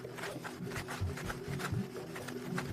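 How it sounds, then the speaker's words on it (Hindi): Wooden fire saw rubbed back and forth against wood to make an ember, a close, rhythmic rasping scrape repeating several times per second with no talk. "अब मैं फायर सॉ को इसके साथ रगड़ रहा हूं।"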